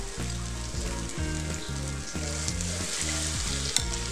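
A vrat snack for Navratri fasting fries in oil in a kadhai, giving a loud, dense, continuous sizzle close up, with no voices present.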